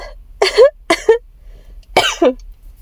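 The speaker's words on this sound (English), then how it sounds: "Or my tiny coughs." Several small, dry coughs come in short bursts with pauses between them, close to the listener and fairly loud.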